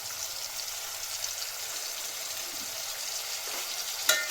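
Maggi masala with salt and turmeric sizzles steadily in a pan, a continuous close frying hiss with faint stirring scrapes and a brief sharper clink near the end.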